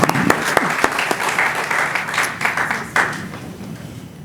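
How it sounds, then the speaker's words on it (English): Audience at a Portsmouth, Virginia city council meeting applauding, a steady patter of many hands clapping at moderate volume in a large room, with a brief spoken word near the end. "Let's give them a hand clap."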